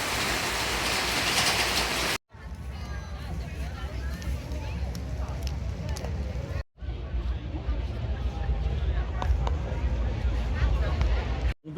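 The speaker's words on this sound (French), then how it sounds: "il y a vraiment une très très grosse averse là" A very heavy tropical downpour drums on a corrugated tin roof over a small street in Hoi An, Vietnam, a loud dense roar of rain that continues across a few abrupt cuts.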